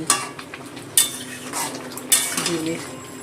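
A spoon stirs fish roe curry with garam masala, sugar and ghee in a pan, giving a few sharp scraping clinks against the metal over a faint sizzle, close and fairly quiet.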